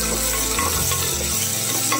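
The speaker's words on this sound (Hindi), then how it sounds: "एक चम्मच अदरक लहसुन का पेस्ट डालूंगी।" Ginger garlic paste frying in a pressure cooker, a loud, close, continuous sizzle and crackle with scraping stirring strokes throughout.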